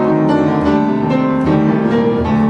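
Solo piano plays a passage in underdotted rhythm, with the short and long notes evened out into near-equal lengths, giving a steady, continuous flow of sustained chords with no voices.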